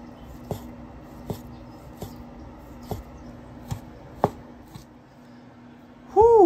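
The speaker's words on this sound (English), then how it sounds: "I'm just gonna cut it in half and then come back in here and just cut as thin as possible" A knife slices a partly frozen ribeye steak into thin strips, making evenly spaced taps about every second. A short, rising-and-falling whistle-like tone follows at the end.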